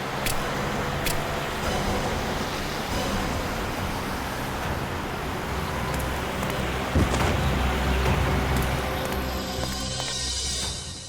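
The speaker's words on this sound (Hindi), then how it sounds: "गाड़ी की आवाज।" Car noise in a CID crime drama scene: a steady, broadband engine and road wash holds evenly throughout at moderate level, with no voices.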